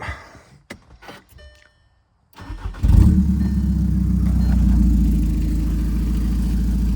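A 2014 VW Passat 2.0 TDI engine cranks and catches, then settles into a loud, steady diesel rumble after a few quiet clicks and shuffles.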